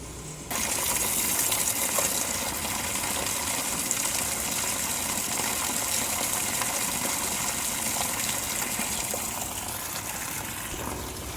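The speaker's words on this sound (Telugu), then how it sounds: "వాటర్ సౌండ్ మైండ్కి ఒక థెరపీ లాంటిది." Water runs steadily in the early morning as a continuous broadband gush, close and fairly loud, holding an even level throughout with no voices.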